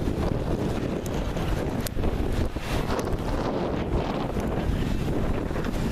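Steady wind buffets the microphone on a sunny, windy sailing day, a loud continuous rushing roar with faint water and boat sounds underneath and no talking.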